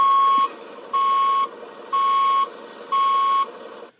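Four evenly spaced electronic beeps from a 2013 Hess toy truck's backing-up sound effect, each about half a second long, with short pauses between them, like a vehicle reversing alarm.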